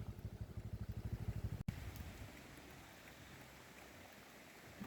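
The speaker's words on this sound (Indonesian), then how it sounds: "Kita berhenti di sini karena cuaca tidak mendukung, hujan." Steady rain hisses and patters during a stop on a motorcycle ride, after a rhythmic low thumping that cuts off abruptly, leaving a constant wash of rainfall with no talk.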